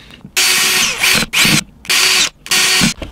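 An electric drill with a 6 mm bit bores holes in recycled plastic, giving four loud, close whirring bursts of about half a second each, separated by short pauses.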